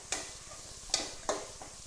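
Curry leaves, mint and coriander stirred into hot oil for coconut rice make three soft spoon taps against a quiet low sizzle, close and faint, with no voices.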